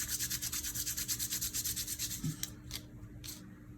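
A prototype test stamp is rubbed clean with quick, rhythmic scrubbing strokes, close and soft, then a few slower separate rubs follow after a brief pause.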